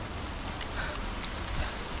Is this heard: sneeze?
no